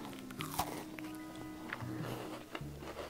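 Crisp crunching bites into something brittle, a few close crackling crunches spread over a few seconds, fairly quiet, no talking.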